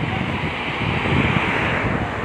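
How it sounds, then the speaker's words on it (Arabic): Strong winter wind blows through a city street in Minya, Egypt, a loud continuous roar with heavy buffeting against the microphone throughout. "معانا الرياح الموجودة في محافظة المنيا"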